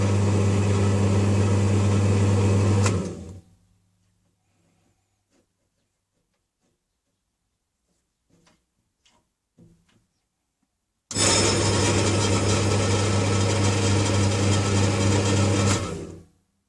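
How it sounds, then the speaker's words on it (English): Axminster Craft AC370WL variable speed wood turning lathe running with a steady motor whine and hum for about three seconds, stopping to near silence with faint clicks, then starting again and running steadily before cutting off. "this is the Axminster Craft AC370WL variable speed wood turning lathe"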